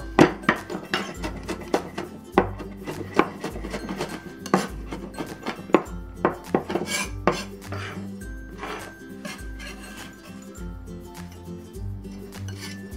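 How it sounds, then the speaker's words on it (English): Garlic is crushed and minced on a board with a knife or cleaver, heard as a series of sharp, close thuds and chops at an uneven rhythm over a faint musical background. "so the garlic we're gonna crush and, and mince also"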